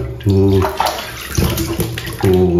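Water is poured and splashed over a dirty Ondel-ondel mask during cleaning, in loud gushing bursts that start, pause and start again, close to the microphone, with a voice speaking in between.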